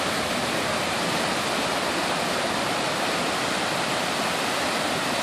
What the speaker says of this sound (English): this is the result of all the water coming down